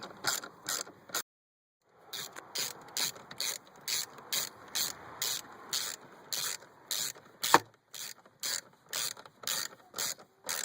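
A hand ratchet tightens T30 Torx bolts on a BMW M54 valve cover, giving rapid bursts of sharp metallic clicks in a regular rhythm, close up, with a brief pause before clicking resumes steadily.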